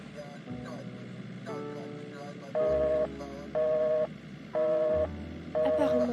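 A phone call failing to connect in an animated series: repeated electronic telephone tone pulses, four steady beeps over a low background hum.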